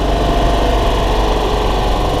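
A Club Car golf cart's small gas engine runs continuously with its throttle cutoff bypassed, held wide open and not shutting off, a loud, steady, close buzzing drone with no talk over it.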